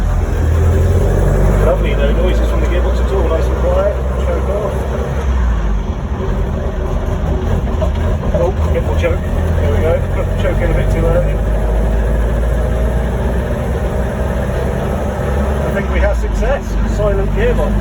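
Land Rover Series One engine runs steadily with a quiet gearbox, a low continuous rumble close by with light mechanical ticking, while people talk over it.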